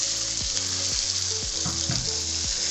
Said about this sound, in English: That's the pepper. You stir it.